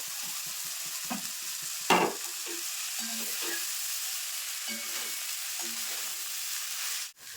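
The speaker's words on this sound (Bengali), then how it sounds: "মশলার সঙ্গে দেখো চিনিটা কিন্তু খুব ভালোভাবে মিশিয়ে নিয়েছি" Spice paste mixed with salt, turmeric and sugar is stirred and scraped in a hot frying pan, steady sizzle under repeated spatula strokes, close and clear with no talk.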